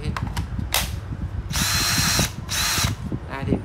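A Ryobi cordless drill runs in short bursts: a brief whir, then two longer high whining runs separated by a pause, close and loud, with a voice talking in between.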